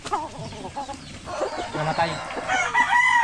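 A rooster on a farm crows loudly and close by, with clucking from other chickens around it and people talking at the same time.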